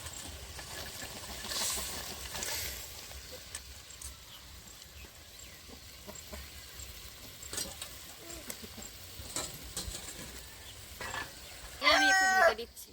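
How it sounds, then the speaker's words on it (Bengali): Small mourala fish go into a simmering green chili curry with a faint bubbling hiss, and a sharper sizzle bursts out briefly near the end. "এবার কিন্তু আমি মাছটা দিয়ে দিচ্ছি, চারিখানা ফুটে এসে গেছে।"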